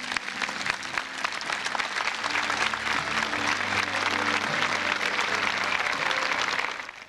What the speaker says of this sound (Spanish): permítanme pedirles un fuerte aplauso para los organizadores de este hermoso encuentro